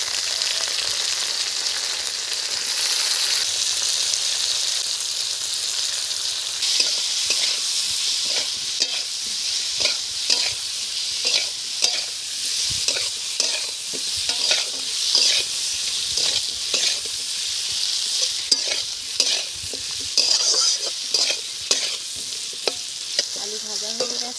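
Thick-cut potato pieces tipped onto fried onions in a pan, giving a steady, close sizzle throughout with repeated scraping stir strokes and no talking.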